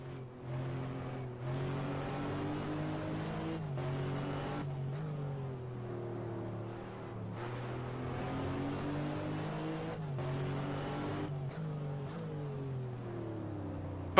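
A racing car engine in a 2000 FIA GT Budapest 500km race video game drones steadily, revving up and down through gear shifts, loud and continuous with no voices.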